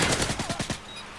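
An MP7 submachine gun fires in Modern Warfare 3: a tight, rapid burst of about eight shots in under a second, loud and close, then it cuts off.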